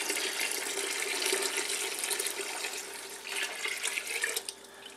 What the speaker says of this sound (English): now I'm adding 2 quarts of cold water